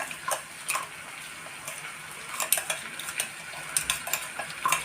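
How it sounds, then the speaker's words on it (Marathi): Sabudana and peanuts are stirred together in a pan, with a utensil scraping and clinking against the metal in irregular strokes and faint sizzling underneath, close and moderately quiet. "चांगलं परतून घेऊया, एकत्र करूया, एकजीव करूया शेंगदाणे आणि साबुदाणा।"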